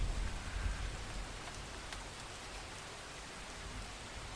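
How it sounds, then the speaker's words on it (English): Steady rain falls on a rooftop, a dense, even patter with a heavier low rumble at the start before settling into a constant hiss. "A tinkle of the rain on the rooftop."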